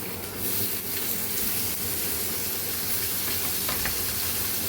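Cut tomatoes frying with turmeric and biryani masala in a pan, a continuous close sizzle with occasional stirring scrapes and a watery, bubbling wash over the whole stretch.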